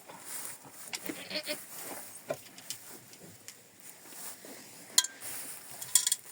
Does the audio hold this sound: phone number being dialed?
no